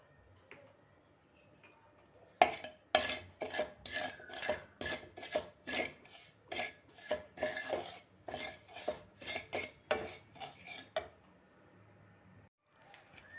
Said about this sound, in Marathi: ही मेथीची पूड मी घालून जरा भाजून घेते